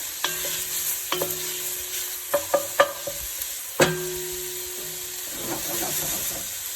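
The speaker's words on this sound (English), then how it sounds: "Now it's time to add in my garlic." Garlic sizzles in a soup pot with softened onion, a gentle fry hiss broken by several crisp knocks and scrapes of a spoon against the pot.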